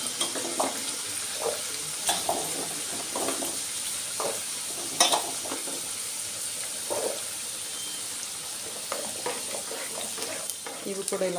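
Amla gooseberries for pickle fry in oil, a steady soft sizzle broken by frequent spoon clinks and stirring scrapes against the pan, moderately close.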